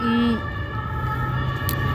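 A wailing ambulance siren holds steady tones in the background while a voice talks over it near the start.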